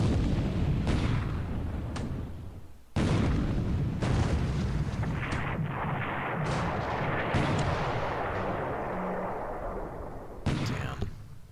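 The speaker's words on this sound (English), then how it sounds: "Just sending plenty of return fire their way." Return gunfire and artillery in War in the Pacific, December 1941, a series of heavy booming blasts with rumbling decays, separated by brief gaps and sharp cracks.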